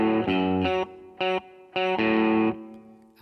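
Distorted electric guitar riff, played through effects as short chopped, repeated chords in a choppy stop-start rhythm, loud and alone with no talking.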